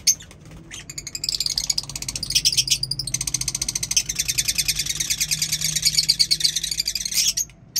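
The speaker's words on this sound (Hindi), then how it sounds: "ये है हमारा मिनी ज़ू जिसमें परिंदों को आप देख सकते हैं" Birds in a small backyard mini zoo aviary chirp and tweet in fast, dense trills, nearly continuous and fairly close, with a few brief pauses between bursts and no talking.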